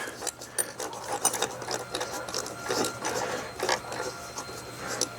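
Screw being backed out of a motion-sensing security light fixture with a camera, a busy run of scratchy, ratcheting clicks and rasping turns, steady and close, with no talking.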